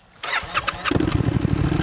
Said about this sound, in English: So let's listen to the fire up.